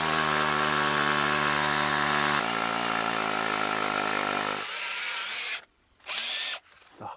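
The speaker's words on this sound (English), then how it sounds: "And just gonna drill this down like the other one." A power drill whines loudly and steadily while boring a footer hole for a walk-out basement, its pitch dropping partway through before the motor stops briefly and starts again.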